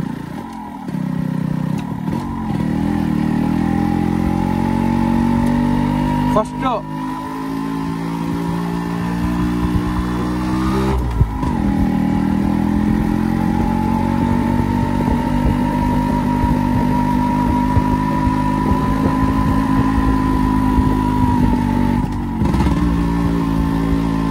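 Close, loud engine drone of a new motorcycle on its first ride, cruising at low speed with several gear shifts and rev changes marking brief dips, otherwise a continuous steady hum throughout.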